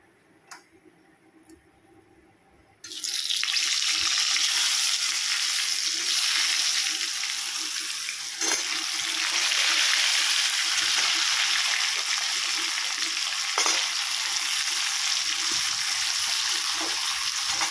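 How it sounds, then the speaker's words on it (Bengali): Washed potatoes drop into hot oil already tempered with cumin, dried red chilli and bay leaf, setting off a sudden loud, steady sizzle that keeps frying close up after a quiet start with a few small clinks. "এখানে আলুর দমে একটু জিরে, শুকনো লঙ্কা আর তেজপাতা ফোড়ন দিয়ে দিয়েছি"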